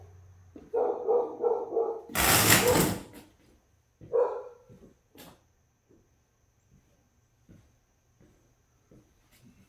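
A dog barks in a quick run of several yelps, followed by a loud rough burst and one more bark, then sparse faint knocks and ticks in a quiet room during a craps game.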